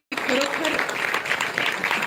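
An audience claps in a sustained burst of applause, close and fairly loud, with no talking over it.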